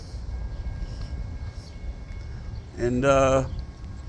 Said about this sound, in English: See a slow ass train.